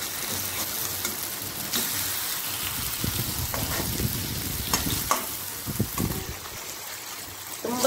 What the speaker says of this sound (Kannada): ಒಂದು ಸ್ವಲ್ಪ ಫ್ರೈ ಮಾಡ್ಕೊಳ್ಳೋಣ ಇದನ್ನು ಮೊದಲಿಗೆ